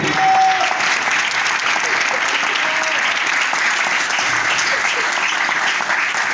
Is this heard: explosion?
no